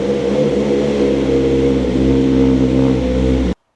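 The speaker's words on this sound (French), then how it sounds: "Après avoir laissé la moto tourner pendant 10 minutes" A 2025 BMW S1000RR motorcycle with a new air filter idles steadily up close, a loud, even engine drone with a low rumble that holds constant and then cuts off abruptly.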